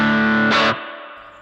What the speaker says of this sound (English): if I bring it up to 100, we get all of our dry signal coming through